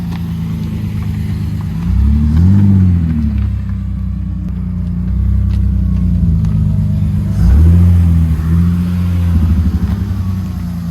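A BMW E30 3.0L engine running on five cylinders idles roughly and unevenly, with a couple of brief revs rising and falling, close and loud throughout.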